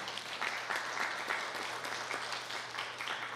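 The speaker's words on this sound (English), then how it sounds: "Maybe a round of applause for everybody." Applause at a children's dance workshop fills the space, a steady wash of clapping hands with no talking.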